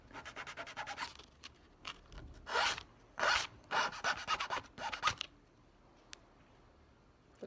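A knife or file bevels a bassoon reed blank in short, quiet bursts of dry scraping strokes, close up, with brief pauses between strokes and a few faint ticks.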